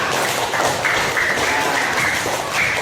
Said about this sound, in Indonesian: minta tepuk tangan buat Mas Rehan